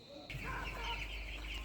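Poultry chicks, about 3,500 fourteen-day-old birds, cluck and cheep together in a farm shed, a continuous busy flock chatter that rises suddenly after a brief quiet moment.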